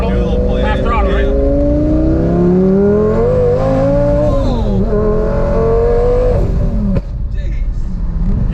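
McLaren 12C sports car accelerating at half throttle, a loud engine note rising steadily in pitch over several seconds, then dipping and cutting out sharply near the end, with people talking over it.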